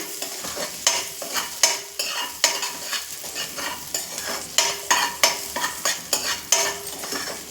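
A small chopped onion and two or three green chillies fry in a pan while a spatula scrapes and stirs in a brisk, regular rhythm over a steady sizzle, heard up close without talk.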